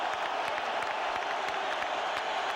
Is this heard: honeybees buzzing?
no